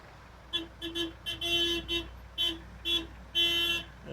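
Car horns honk repeatedly in stuck city traffic, a string of short toots mixed with a few longer blasts, loud and close over a low engine rumble.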